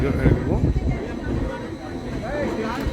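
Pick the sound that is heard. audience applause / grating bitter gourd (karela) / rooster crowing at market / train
train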